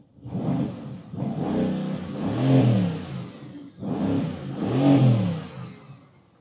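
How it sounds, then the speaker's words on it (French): A 2016 Mercedes-AMG GT S V8 with its sport exhaust revs twice in close succession. Each blip swells into a deep, throaty roar and then falls off, heard nearby and on its own. "je vais vous faire entendre un peu la sonorité du moteur avec ses échappements en mode sport"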